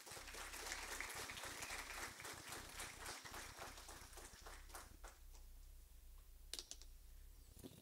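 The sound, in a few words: audience applause at conference opening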